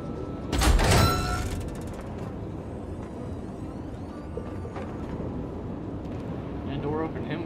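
A sci-fi door slides open in the Tales from the Borderlands video game with a loud, hissing mechanical whoosh at the start, followed by a steady background hum and faint clanks while people talk.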